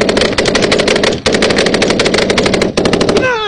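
Machine gun fire during a live battle between US Army troops and the Taliban: loud, close, rapid automatic bursts in quick succession, broken by brief pauses.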